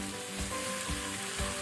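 Chicken fries in a spiced oil tempering over a high flame, giving a steady, soft sizzle with a few gentle stirring scrapes. The sound is close and quiet with no talk.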